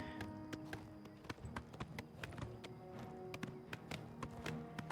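Hooves of Shadowmere, a horse in The Elder Scrolls IV: Oblivion, clop in a steady, rapid galloping rhythm over a quiet game soundscape.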